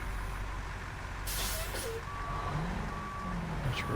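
Repeated reversing beeps from a heavy truck in the off-road driving game SnowRunner, thin and intermittent over a loud continuous diesel engine rumble, with a sharp burst of air-brake hiss partway through.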